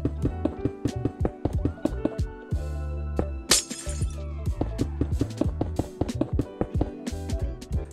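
Blocks of white stained glass are placed one after another in Minecraft, making crisp, glassy taps in a quick, uneven rhythm over steady background music.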